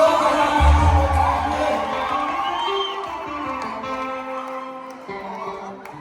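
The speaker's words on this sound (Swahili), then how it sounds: "Hamjapiga vigelegele bado kwa Yesu" A church congregation cheers and ululates in praise of Jesus, a loud crowd of high trilling voices that fades gradually over several seconds.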